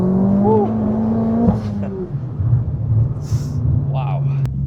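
Tuned Abarth 595 with a 1.4 engine accelerating, a steady engine drone rising slightly in pitch under in-car conversation, with some cabin rattles and a brief squeak near the end.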